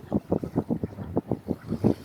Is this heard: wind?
yes